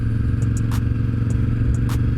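KTM 950 Adventure motorcycle engine idling nearby, a loud, steady low throbbing rumble with a lumpy pulse, plus a few faint clicks and clatters on top and no talking.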